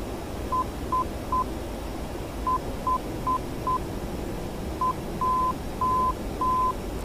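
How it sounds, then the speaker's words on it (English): A thin, steady tone beeps out an NDB navigation beacon's Morse code identifier in the DCS World flight simulator, short dots and longer dashes grouped with pauses, over a constant hiss of static. "We're going to listen to the Morse code that's been presented by the NDB"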